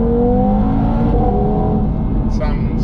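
Audi TT RS with an APR Stage 1 tune and no exhaust or other modifications, heard close up as its engine pulls hard under acceleration with a rising, droning five-cylinder note, loud and continuous throughout.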